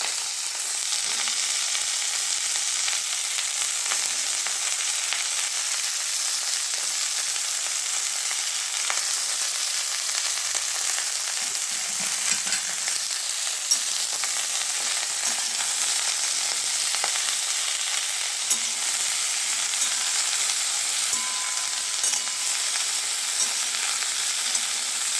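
Hot oil frying in a pan, giving a steady, continuous sizzle with a bright hiss and occasional small crackles, close and alone for the whole stretch.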